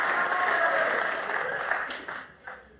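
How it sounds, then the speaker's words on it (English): Snooker audience at the 2024 Grand Prix final, Ronnie O'Sullivan against Judd Trump, breaking into steady applause that holds for a couple of seconds, then thins out into a few scattered claps. "The crowd getting excited."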